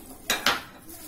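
Coriander being mixed into a vada potato filling in a pan, two quick, close scrapes of a spoon against metal in fast succession, then quiet.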